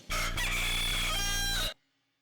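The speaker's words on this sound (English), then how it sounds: "The rooster says," A single loud, close rooster crow, a drawn-out cock-a-doodle-doo lasting under two seconds before cutting to silence.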